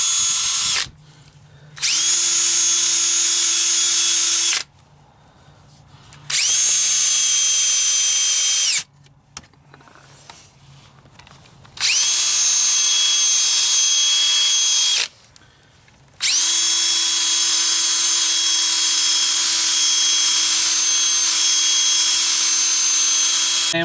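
A power buffer polishing stains and small scratches from chrome with a larger buffing pad whines in four loud, close bursts of several seconds each, separated by short quiet pauses.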